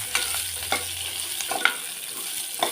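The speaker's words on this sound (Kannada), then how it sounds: "ಇದು ಚೆನ್ನಾಗಿ ಫ್ರೈ ಆಗಬೇಕು." Onion and a whole head of peeled garlic frying in a pan for mutton curry, a steady close sizzle broken by a few light stirring scrapes, with no talk.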